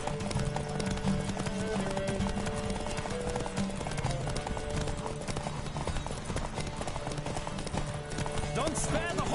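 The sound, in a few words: horse galloping in video game The Witcher 3: Wild Hunt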